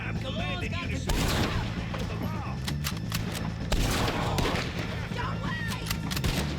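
Gunfire in Red Dead Redemption 2 game play: dense, loud shots and heavy booms fire repeatedly throughout, with sharp cracks at irregular intervals over a steady low rumble and a droning score.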